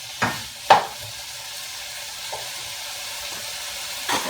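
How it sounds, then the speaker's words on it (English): Stuffed beef roll-ups simmer in butter in a skillet, giving a soft, steady sizzle with a few sharp bursts near the start and end, with no voices. "So that's what we're kind of simmering it in, is the butter."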